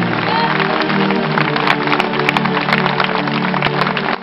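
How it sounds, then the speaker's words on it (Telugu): A church congregation claps together at a prayer service, a dense steady wash of applause running throughout with a few sharper individual claps standing out, loud and close. "చప్పట్లు కొట్టండి"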